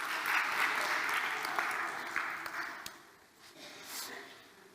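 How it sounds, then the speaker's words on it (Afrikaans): A church congregation claps during a Sunday service, a close burst of dense applause that tapers off over a few seconds, with some murmuring and breathing underneath. "Ja, klap vir hande."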